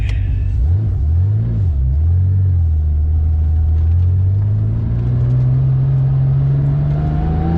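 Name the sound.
Porsche race car engine driving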